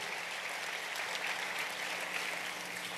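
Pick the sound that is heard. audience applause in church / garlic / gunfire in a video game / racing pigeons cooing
audience applause in church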